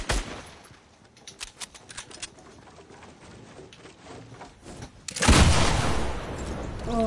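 Gunfire in a shooter video game: a quick burst of sharp shots early on, then a louder, denser rattle of fire near the end over steady game noise, with no talking.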